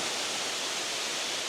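Kondilla Falls pours in a steady, dense roar of falling water, a broad unbroken rush heard alone at fairly close range.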